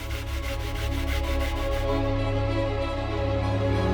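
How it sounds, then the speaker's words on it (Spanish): Wet sanding of a polyester resin face mask piece with water, a steady rhythmic rubbing scrape in quick regular strokes, close and fairly loud, later smoothing into a continuous rasp with no talk. "se lija ya con agua de esta manera para dejar una superficie también lisa"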